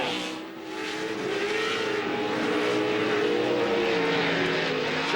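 An off-road race truck at a CORR event in Las Vegas accelerates hard on the track, with a loud, sustained engine roar whose pitch rises and wavers steadily throughout and no talk.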